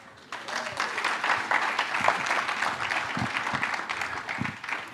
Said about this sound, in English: Put your hands together and give a loud round of applause to Mauritius.